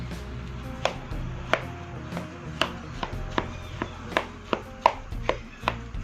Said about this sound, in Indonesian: Kita hancurkan seperti ini, tidak perlu halus sekali, kasar-kasar aja.